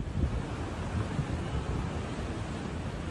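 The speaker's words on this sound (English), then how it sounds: "massive waves lifting stationary vehicles in Gordons Bay, Still By, Mossel Bay, and 3 Anchor Bay in Cape Town" Massive ocean waves surge through bays around Cape Town, a continuous roaring wash of surf mixed with heavy wind buffeting on the microphone, loud and unbroken.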